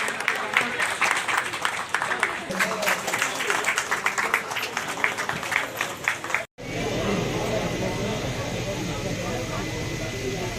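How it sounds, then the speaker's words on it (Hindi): Loud applause from a large crowd at a public hearing, sustained clapping that cuts briefly and resumes as a dense roar. "जोरदार तालियों से स्वागत।"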